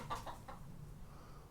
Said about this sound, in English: cats are chasing me chickens around.